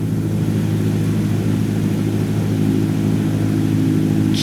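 A plane's engine drones steadily during a landing on a runway in the video game Microsoft Flight Simulator 2020. The hum is loud and constant with a dense, even mechanical tone and no clear touchdown thump. No one speaks.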